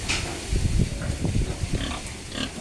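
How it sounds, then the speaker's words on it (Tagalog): Pet pigs grunt in a storm-damaged pen, with a run of close, low grunts and snorts over steady background noise from wind and rain. "Malalakas naman kumain itong ating mga alagang baboy."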